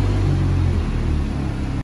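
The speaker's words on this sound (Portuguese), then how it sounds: "O carro agora vai embora para casa dele, depois de alguns dias aqui na loja." A 1000 hp Audi TT RS pulls away from a shop, its engine a loud, steady low rumble that holds for about two seconds and then cuts off abruptly.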